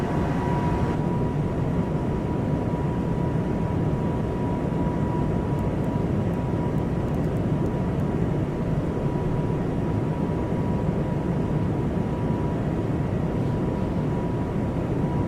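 Airbus A220 jet engines in Microsoft Flight Simulator 2024, a steady, loud broadband roar with a faint constant whine, continuous and unchanging with no voices.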